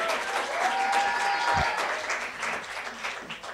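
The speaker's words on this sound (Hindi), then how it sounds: "एक बार तालियां तो बजनी ही चाहिए." Steady applause from a festival panel discussion audience, a dense wash of clapping that holds for a few seconds with a faint tone in the background.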